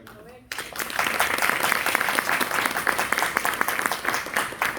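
Audience applause at a Palisades Park Board of Education meeting bursts in after a short quiet moment and continues as a steady, fairly close round of clapping to the end.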